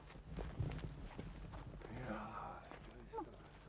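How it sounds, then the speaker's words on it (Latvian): Horse hooves clip-clop at a walk on a farmstead, a steady near rhythm of hoofbeats running beneath overlapping voices of people talking. "Mēnard, piesien zirgu."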